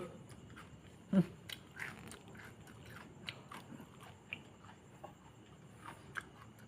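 A sharp close bite into grilled beef followed by quiet, intermittent chewing and crunching sounds, with soft clicks scattered through an otherwise hushed background.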